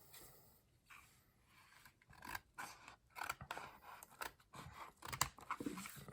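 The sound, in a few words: scissors cutting open a comic book slab well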